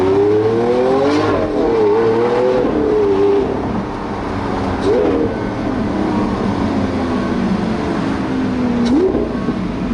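A Lamborghini Aventador LP700-4 engine pulls hard under acceleration, with loud rising revs broken by several quick gear shifts, heard from inside the car as a continuous close roar.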